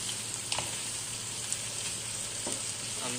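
Tripe fries in oil with tomato, onion and ginger paste, giving off a steady low sizzle with occasional clicks and scrapes of stirring, close and fairly quiet.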